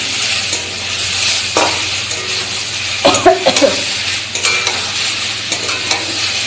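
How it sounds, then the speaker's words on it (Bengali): Vegetables fry and get stirred in a pan, a steady sizzle running throughout with scraping and clinking strokes of the spoon, loudest around the middle, recorded close with no talking. "ভেজে নিচ্ছি আগে সবজিটা।"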